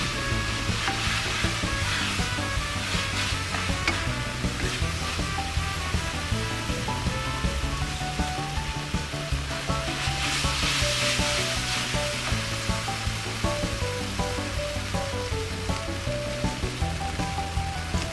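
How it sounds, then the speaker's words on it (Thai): Mama instant noodles stir-fried with pork and seasoning in a hot pan, a steady loud sizzle with scraping stir strokes running throughout, close and continuous with no talking. "ผัดให้ทุกอย่างเข้ากันดีนะคะ ให้เครื่องปรุง เคลือบกับเส้นมาม่าที่เรา ใส่ลงไปเมื่อกี้"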